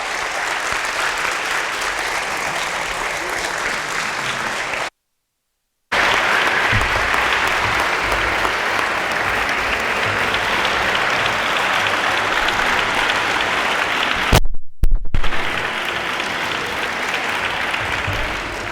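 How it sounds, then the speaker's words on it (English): A large audience applauds loudly and steadily, a dense wash of clapping that cuts out briefly, resumes, then continues strongly to the end. "Please keep the applause going for Justice Albie Sachs."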